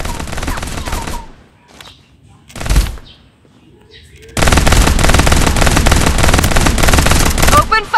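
Loud automatic gunfire in the mobile battle game Farlight 84: a burst, a short gap with a single heavier shot, then a long sustained volley of rapid close-range rounds.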